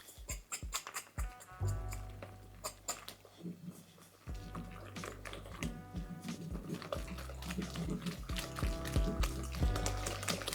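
Yorkshire pudding batter being whisked in a bowl, a thick heavy mix without milk yet, giving continuous close wet slapping and clinking strokes at a steady brisk rhythm.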